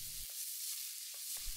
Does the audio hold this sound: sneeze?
no